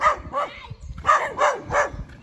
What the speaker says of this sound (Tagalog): Ang daming asong sasalubong.